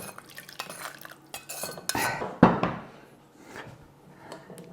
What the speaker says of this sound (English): And then we strain the sauce. I've got a little strainer here